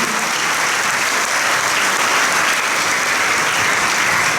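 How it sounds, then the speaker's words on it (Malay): A school ceremony audience claps together, dense sustained applause from many hands filling the room evenly throughout, with no voices standing out. "Bagi tepukan gemuruh sekali lagi."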